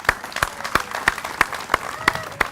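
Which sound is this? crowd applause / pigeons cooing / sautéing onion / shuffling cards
crowd applause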